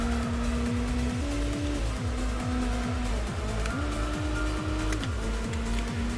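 Engine of a car racing in Gran Turismo 4, revving hard and steadily with repeated gear shifts and rising, falling pitch, loud and continuous for several seconds over faint tire noise, with no talking.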